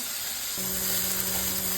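Potatoes, capsicum and beans sizzle steadily in a hot pan, a continuous close frying hiss that swells louder once the vegetables go in and holds without talk.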